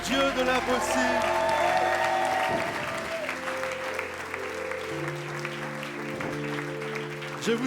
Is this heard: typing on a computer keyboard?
no